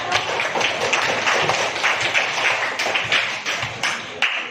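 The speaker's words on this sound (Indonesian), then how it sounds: "Beri tepuk tangan pada kelompok 1." Students in a classroom clap together for a group, a dense burst of close, fairly loud hand claps with a few sharper individual claps standing out toward the end.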